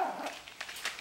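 A small male puppy of a toy or micro mini breed gives a few faint, quick yips and whimpery barks at close range in a quiet room.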